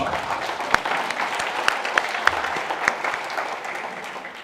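A crowd at a summit event claps for a guest, a moderately sized room of steady applause with several distinct sharp claps near the microphone, tapering slightly toward the end.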